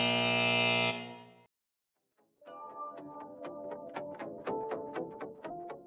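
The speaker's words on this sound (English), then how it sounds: "Did you hear that buzzer?" A loud, flat electronic buzzer sounds for about a second, then cuts off into silence before a faint, rhythmic musical pattern begins.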